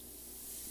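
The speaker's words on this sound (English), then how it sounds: "if I spray the dark over that, it's going to be much better" An airbrush spraying dark paint over a lighter layer, a steady even hiss held for a short moment, close by and with no talk over it.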